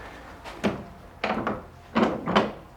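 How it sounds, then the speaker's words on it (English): An old wooden church door in a Bignor, West Sussex porch being worked open, a series of four close wooden thunks and creaky rubbing knocks spaced about half a second apart, no voices. "Let's go in and try the door handle then."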